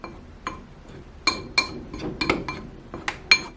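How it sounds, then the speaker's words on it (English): A spoon stirring baking soda into flour in a bowl for soda bread, with a series of close, sharp clinks and taps against the bowl at uneven intervals. "I want to stir that in"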